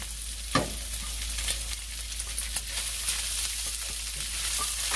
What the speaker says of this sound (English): After a couple of minutes, the bacon fat has rendered. Let's add our onions.